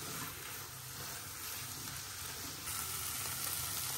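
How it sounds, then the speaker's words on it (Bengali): Kidney beans frying with spices in a pan give a steady, quiet sizzle with faint stirring scrapes, continuous and close without any talk. "এখন এই রাজমাটার সাথে মশলার সাথে ভালোভাবে একটু কষায় নিব।"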